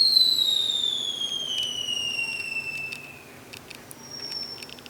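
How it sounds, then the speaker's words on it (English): Fireworks go off outside: long descending whistles glide down while several sharp crackling pops and bursts follow, clear but moderately distant against a quiet background. "guess someone's shooting off fireworks."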